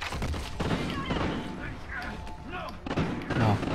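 Gunshots ring out in the Call of Duty: Ghosts campaign as a string of irregular sharp cracks and thuds over steady game noise and background action.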